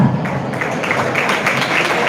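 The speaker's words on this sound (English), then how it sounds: "Huge round of applause." An audience applauds at a youth inspiration talk event. Steady, moderately loud clapping carries on evenly throughout with no break.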